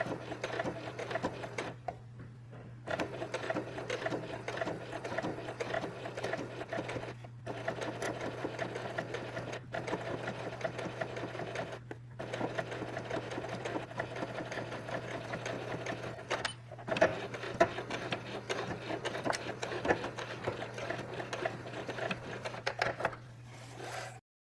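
Sewing machine stitching an understitch on fabric, a loud close whirring motor with rapid needle clatter in long continuous runs, briefly pausing several times before starting again, with no speech.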